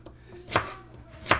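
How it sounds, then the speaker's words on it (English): Two sharp knife chops through carrots strike a cutting board about a second apart, close and fairly quiet, with faint room noise between them. "It's like my knife just smacking on the"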